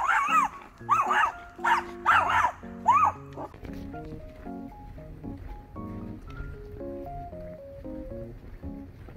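An excited Maltese dog barks in about five sharp, loud bursts close by during the first few seconds, then falls silent while soft background music continues.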